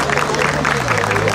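Brief burst of applause from a small crowd gathered at the opening of an election office in Bursa, with clapping mixed with murmuring voices.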